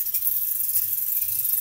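Water runs steadily from a tap during the washing of a wig, a continuous hiss with no talk that stays close and fairly loud throughout.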